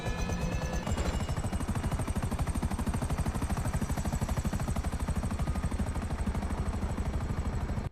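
A video-game helicopter's rotor thumps in a fast, steady pulse throughout, loud and close, with a whining engine tone above it.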